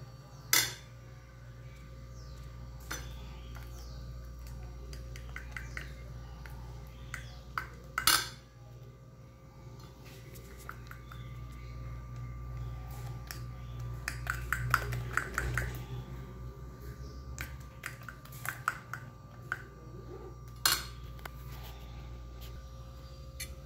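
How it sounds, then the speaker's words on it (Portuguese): A utensil stirs wheat-free cake batter with oats in a bowl, knocking against the sides in scattered light clinks and scrapes, some sharper taps standing out over a quiet, steady background. "Misturar os ingredientes."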